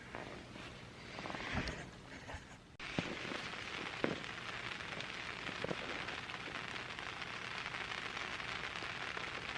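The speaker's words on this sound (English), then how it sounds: "it started raining" Rain patters steadily on a backpacking tent during a monsoon, a dense close hiss of drops with a few sharper taps, growing heavier partway through and continuing without voices.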